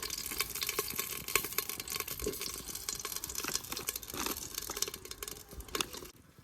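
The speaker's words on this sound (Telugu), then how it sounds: "ఇప్పుడు ఆనియన్స్ వేసుకుందాం." Onions frying in a pan for village-style chicken curry, a steady close crackling sizzle with bursts of stirring and scraping, fading near the end, no talk.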